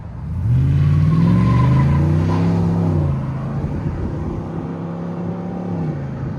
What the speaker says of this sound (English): This time he's gonna step on it. Let you guys really hear it.